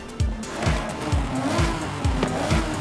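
BMW M3 E46 with its naturally aspirated straight-six, driven in Forza Horizon 5: a loud, continuous exhaust note with a series of rhythmic low bursts, like revs rising and dropping between shifts, heard alone without talk.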